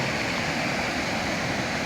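Creek water at Abrams Falls rushes steadily and loudly from close range, a dense, continuous churning wash with no talk over it.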